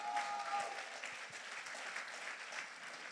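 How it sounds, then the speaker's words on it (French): A church congregation applauding for the Lord, a sustained spread of clapping from a fairly distant crowd, steady and soft throughout with no talk over it. "Est-ce qu'on peut acclamer pour le Seigneur?"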